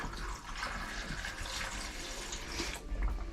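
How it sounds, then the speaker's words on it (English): Water pours steadily down a camper drain during winterizing, a soft continuous splashing gurgle close by, with a brief heavier gush near the end and no talk. "pour a little water, pour a little antifreeze down there"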